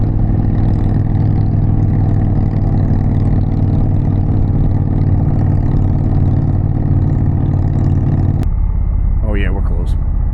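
An Indian Challenger motorcycle's exhaust drones loud and steady while riding, a deep continuous engine rumble with wind, then it cuts sharply near the end and a short voice follows.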